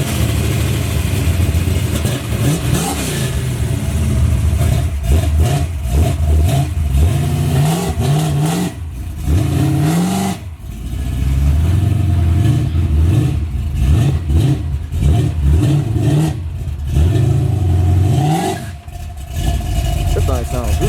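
A boxy Chevy on 26-inch rims, running nitrous, revs hard and repeatedly through a low-RPM burnout, its loud engine rising and falling in surges close by while people talk over it.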